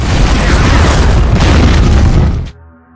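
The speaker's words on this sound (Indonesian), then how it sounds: "Seketika mobil itu meledak" A car blows up in a film scene: a loud, sustained roaring blast fills the air for a couple of seconds, then cuts off abruptly into a quiet low hum.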